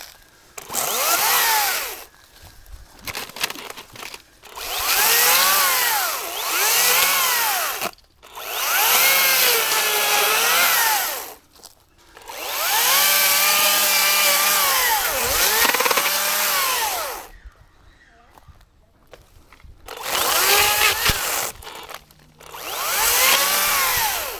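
A Makita DUC254 18V cordless battery chainsaw cuts through wood in several long bursts, its motor whining up and bogging down under load between short pauses, loud and close with no talk.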